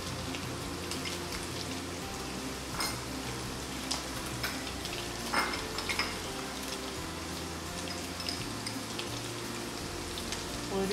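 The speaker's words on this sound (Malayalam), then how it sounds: "നമ്മൾ നന്നായിട്ട് വഴറ്റണം." Chicken and aromatics sautéing for Kerala-style chilli chicken make a steady, dense sizzle in a hot pan, with scattered crackles and occasional scraping stirs throughout, close and continuous with no talk.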